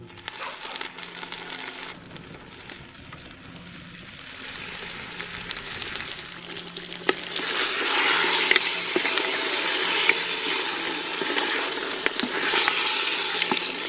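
Ground masala sizzling and being stirred into mutton bone curry in a pan, a steady frying hiss that swells louder partway through, with occasional scraping clinks of the spoon.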